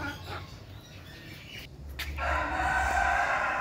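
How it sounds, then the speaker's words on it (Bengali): Kadaknath chickens at a zoo, with a rooster crowing loudly through the second half amid fowl clucks and open-air background noise. "সম্ভবত এইগুলা কাদাকনাথ মুরগি"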